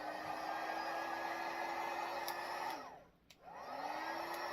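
A handheld hair dryer blowing on ink on a sweatshirt, a steady close whooshing hum with a whine that drops away as it briefly switches off, then spins back up.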